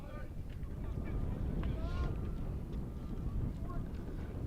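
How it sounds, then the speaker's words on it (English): Wind gusts buffet a microphone at an outdoor baseball game, making a steady, heavy low rumble throughout with faint distant sounds underneath. "waiting for this wind gust to settle down"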